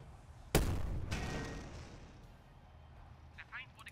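Gunfire in The Troop, a World War II tactical strategy video game: one sharp loud blast followed by a second boom and a long decaying rumble.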